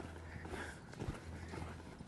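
Hooves of a young horse clip-clopping at a walk, a steady irregular thudding with soft scuffs on the ground, close and continuous over background noise.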